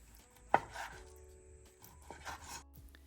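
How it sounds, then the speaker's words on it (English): A knife cutting sashimi-grade salmon into cubes, one sharp chop on the board followed by a few quieter cuts and scrapes over a faint hum in a quiet kitchen. "First, we cut the salmon lengthwise. And then into cubes."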